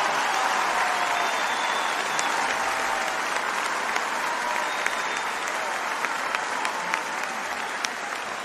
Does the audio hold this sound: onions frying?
no